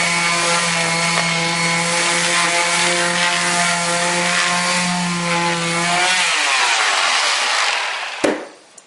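A power sander works over a drywall patch with a steady, loud motor whine for about six seconds, then winds down with a falling pitch and ends in a short knock.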